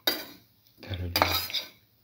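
Powdered coconut stirred as it roasts in a pan, two close bursts of spoon scraping and clinking against the metal.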